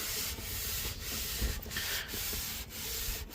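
Bar Keepers Friend slurry is scrubbed off the dashboard of a 1966 Ford Mustang, a close, steady back-and-forth rubbing with soft periodic strokes and no talking.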